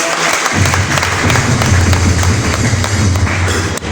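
A church congregation at a worship service applauding in praise: dense, close clapping with some thumps, continuous after a brief quiet opening.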